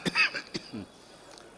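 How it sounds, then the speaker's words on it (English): A man coughs a few times in quick, harsh bursts, close and moderately loud, followed by a quieter throaty sound and faint room noise. "I'm just getting a very bad cough"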